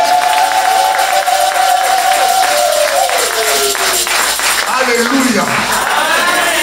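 A church congregation at Bethesda church in western Paris loudly acclaims and claps, making a steady, dense crowd roar with a wavering voice rising and falling above it throughout.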